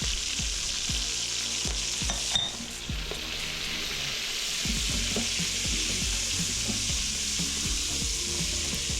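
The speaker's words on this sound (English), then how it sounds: "Stirring occasionally, getting all those brown bits off the bottom." Onion, celery and garlic sizzle steadily in an Instant Pot while a utensil scrapes and stirs the bottom in repeated strokes, close and continuous.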